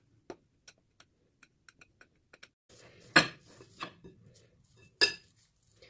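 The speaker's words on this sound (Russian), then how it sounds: "Картошку нам нужно будет обвалять в смеси какао-порошка и сахарной пудры. Нам их нужно хорошенечко перемешать." A spoon taps and scrapes in a bowl while cocoa powder and powdered sugar are mixed together, starting as a string of sharp, evenly spaced light clinks and ending with a few louder scraping strokes, close by and without speech.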